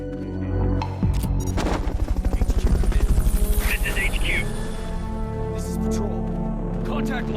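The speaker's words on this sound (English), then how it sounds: "Recovery subject confirmed on board helicopter." Helicopter rotor thudding steadily and loudly in the stealth action game Metal Gear Solid Peace Walker, a rapid chopping pulse with bursts of gunfire and game sounds over it.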